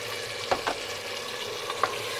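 Stingray pieces sizzle steadily in a hot pan, with a few sharp scrapes and clacks of stirring breaking through the constant frying hiss.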